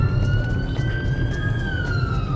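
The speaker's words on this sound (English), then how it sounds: "I hear sirens." A fire engine's wailing siren rises and falls over a rumble of traffic, fairly close and continuous, with no voices.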